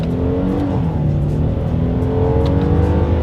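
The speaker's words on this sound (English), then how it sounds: "let's go ahead and test out the paddle shifters and we'll see how quickly they react for us here." A 2021 Hyundai Palisade SUV accelerates in first gear using its paddle shifters: a steady, loud engine drone that rises in pitch, heard from inside the cabin with no talking.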